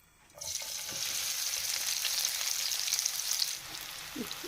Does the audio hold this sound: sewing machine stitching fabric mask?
no